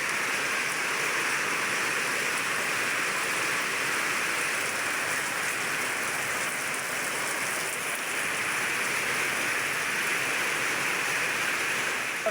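Continuous heavy rain hisses evenly for the whole stretch, a dense, unbroken wash of falling water with no voices.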